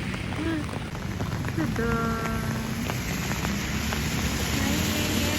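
Steady rain falls after a long work shift, a dense even hiss filling the background at constant loudness while a voice speaks briefly over it.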